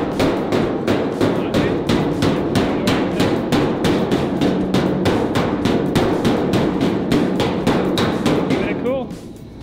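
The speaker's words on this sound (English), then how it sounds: "Now draw hammer underneath. Draw the metal towards the center." Rapid, steady draw-hammer blows strike a hot metal car hood panel in a continuous close rhythm for several seconds, then stop as the ringing fades away.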